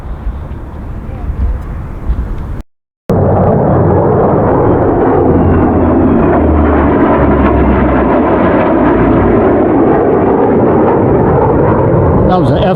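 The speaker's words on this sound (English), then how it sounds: "That was an F-35 and a P-38." An F-35 and a P-38 flying past near an air and space museum in Tucson, Arizona, a loud, continuous broadband roar after a brief pause, steady and close throughout.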